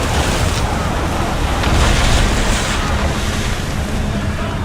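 Wind and ocean waves rush past a sailing ship in Assassin's Creed Odyssey, a loud, steady roar of gusting air and surf with no break across the whole stretch.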